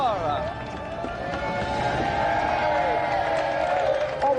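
A television game show studio audience applauds and cheers for celebrity guests, a steady, full wash of clapping and crowd noise mixed with voices and music.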